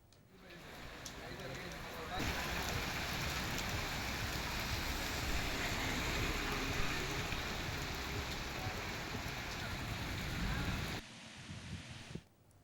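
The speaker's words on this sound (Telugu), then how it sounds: "ఒక్కసారిగా వాతావరణం మారి వర్షం పడింది" Sudden rain pouring steadily outdoors during a weather change, a dense even wash of falling water that swells in after a couple of seconds and cuts off near the end.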